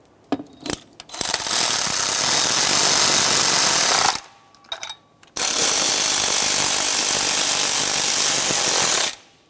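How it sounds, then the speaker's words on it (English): A power ratchet snugs the thermostat housing mounting bolts on a 1994-2002 Dodge Ram 2500. Two loud, sustained mechanical rattling bursts are separated by brief pauses and a few short clicks. "Now that I have them both started, I can snug them up."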